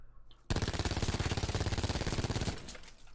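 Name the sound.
gunfire while strafing in video game Black Ops 4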